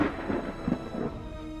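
A low, rolling rumble of thunder, steady and moderately loud, with a few heavier swells and no voices.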